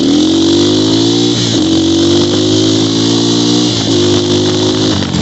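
A 250cc dirt bike engine with a fan-boosted air intake revs loudly and close, its pitch holding high with two brief dips before climbing again. No voices are heard.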